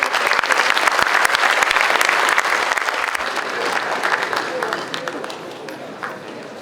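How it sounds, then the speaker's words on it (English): An auditorium audience at a memorial lecture breaks into a big round of applause. The dense clapping is loud at first and gradually thins and fades over about six seconds. "One big round of applause."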